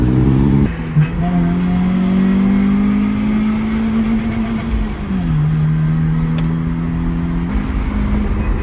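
BMW E36 318iS engine revving high and holding near the limiter, a loud close drone that sags briefly and climbs again, with no talk.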